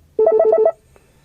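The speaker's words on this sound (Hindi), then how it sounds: "यहाँ पे मेरी वाइफ के फ़ोन में मिस कॉल आया।" Incoming-call ringtone played through the car Bluetooth system of a Tata Tigor, a loud, close burst of five quick repeated electronic tone pulses lasting about half a second, then near silence.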